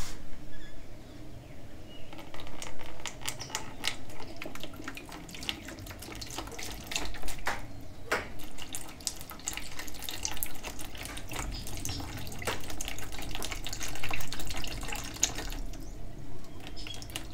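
255 grams of distilled water running into a container for homemade soap, a steady trickling and splashing stream that continues throughout at close range.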